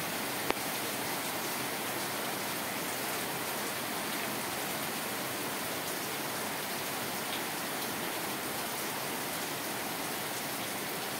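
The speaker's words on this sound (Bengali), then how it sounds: "আজকে 3-4 দিন একটানা বৃষ্টি হচ্ছে, কোনো বন্ধ নাই।" Heavy monsoon rain falling steadily during several days of continuous downpour, a dense, even hiss that holds without a break throughout.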